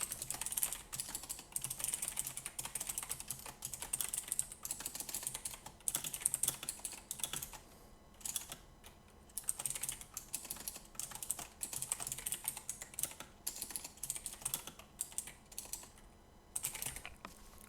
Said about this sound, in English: So let me just write the rest of the code.